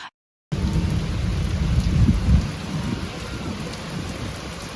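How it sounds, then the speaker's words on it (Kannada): Heavy monsoon rain pours in the evening after a short silent gap, a loud, dense roar of falling water. A deep rumble of thunder swells in the middle and then fades back under the steady downpour. No speech. "ಇನ್ನು ಸಂಜೆ ಆಗ್ತಿದ್ದಂಗೆ ಜೋರು ಮಳೆ ಸ್ಟಾರ್ಟ್ ಆಯಿತು"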